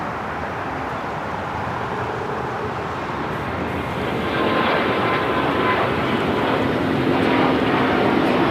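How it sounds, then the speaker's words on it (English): A China Airlines Airbus A350-900 jet takes off at LAX, its engines a loud, broad, continuous roar that swells stronger midway through the run. "This is China Airlines Flight 5 taking off to Taipei on the A350-900."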